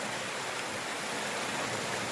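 Stream water flowing along a hiking trail: a dense, steady broadband rush and gurgle, close and continuous, with no voices.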